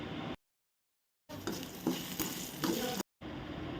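Onions sizzle and sauté with asafoetida in a hot pan for a buttermilk curry tempering, with occasional stirring scrapes, the frying cut off by two abrupt silent gaps.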